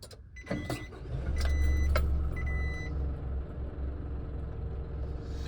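A 2022 Isuzu NQR crew cab box truck starts up: a few sharp mechanical clicks and a brief cranking come first, then the engine catches into a deep, steady idle rumble, heard close with no talking.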